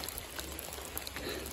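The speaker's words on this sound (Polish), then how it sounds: "No pada cały czas." Steady, close rain patters in a continuous fine hiss across a rural worksite where an excavator is cutting a road, with no voices.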